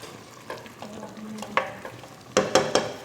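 Chicken liver being stirred and frying in a pan for adobo, with a soft sizzle broken by several sharp scraping clatters of a utensil against the pan, close and loud.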